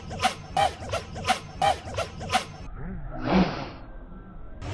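An FPV drone tuned with Betaflight 4.3 performs flips and rolls, its motors giving a series of sharp, rhythmic bursts followed by a softer bouncing surge as the quad settles, fairly close and without talk.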